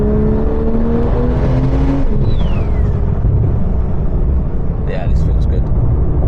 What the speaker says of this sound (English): The pops and the bangs of this thing is just phenomenal, man.